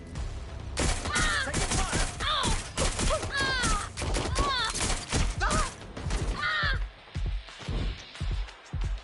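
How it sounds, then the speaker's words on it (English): Gunfire in the video game Watch Dogs: Legion, rapid bursts of shots crackling through a busy, loud mix full of voices and other game effects. "Shooting us!"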